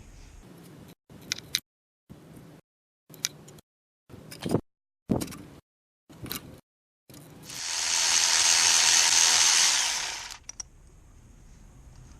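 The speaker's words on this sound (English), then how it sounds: "I'll now be removing this outlet pipe" Stock aluminum turbo outlet pipe being removed from a BMW 335i N54 E90, with a series of short ratcheting clicks in separate bursts, then a steady loud whirring hiss lasting a couple of seconds, close and clear.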